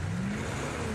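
Monster truck engine revving in a TV advert, a loud, steady, deep growling roar held throughout, with no talking.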